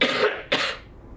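Two sharp coughs in quick succession, close and loud, the second slightly softer and trailing off.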